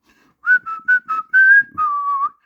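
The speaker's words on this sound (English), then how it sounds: "I could whistle his song" A person whistles a short tune up close, clear and loud, in six pure phrases with small gaps, the last note held and slightly bending, with no talking.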